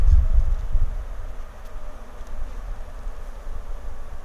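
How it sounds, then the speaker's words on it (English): Honey bees buzzing on hive frames while queen-rearing equipment is set between them, a soft continuous hum with faint scattered handling bumps, steady and fairly quiet, with no talk over it. "So there's some bees on there."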